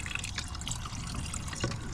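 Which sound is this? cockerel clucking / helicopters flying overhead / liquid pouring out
liquid pouring out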